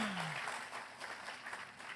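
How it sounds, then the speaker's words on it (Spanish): A church congregation applauds during a Spanish-language sermon, giving a round of applause to the Lord. The clapping is faint and distant, a soft continuous patter for about two seconds, with a brief voice at the start. "Vamos a dar un aplauso al Señor"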